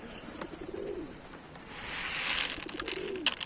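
Posta filo pigeons give two soft, low cooing calls about two seconds apart, fairly near, over faint outdoor background noise and a few light clicks.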